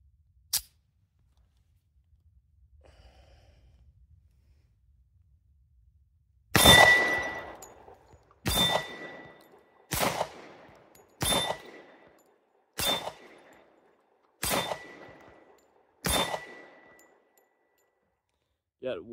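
Seven sharp pistol shots from a Kimber Ultra Carry II loaded with a Wilson Combat magazine, loud and close, fired at a steady pace about one to two seconds apart after a quiet stretch and a faint metallic click.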